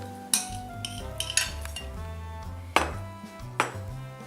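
A spoon fills a hollowed tomato with egg salad, clinking and tapping sharply against a dish several times at an uneven pace, with quieter scraping in between, close and without speech.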